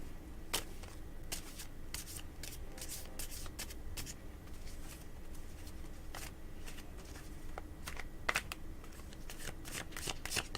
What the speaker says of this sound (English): I've been shuffling these cards for a few minutes now